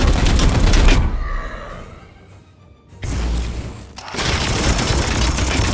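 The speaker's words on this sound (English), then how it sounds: "Opening fire." Dense, loud bursts of gunfire from Warhammer 40k: Chaos Gate Daemonhunters, with a sustained fusillade, a brief lull with ringing tones, then another heavy volley of rapid shots.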